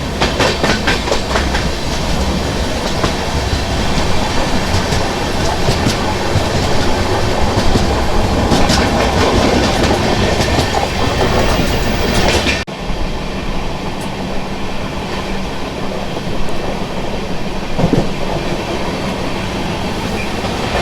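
A Mumbai local train runs on railway tracks near Malad with a loud, steady rumble and clattering wheels, heard from close by. Partway through, the sound changes abruptly and continues slightly quieter as a constant roar with faint clicks.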